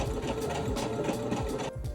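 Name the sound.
sewing machine sewing pajama shoulder seams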